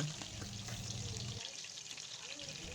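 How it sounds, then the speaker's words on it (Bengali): Tangra fish fry in a generous amount of oil, giving a continuous soft hiss and crackle at moderate distance, fairly faint, with a low hum in the first half and no speech. "প্রথমে মাছগুলো ভেজে তুলে নেব।"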